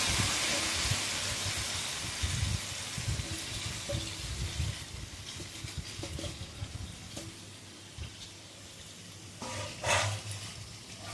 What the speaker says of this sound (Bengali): এবার আমি মাখিয়ে রাখা মাংসটা গরম তেলের মধ্যে দিয়ে দিলাম।